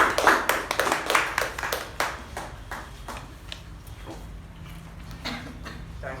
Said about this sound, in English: Toastmaster Gaurav, with a huge round of applause.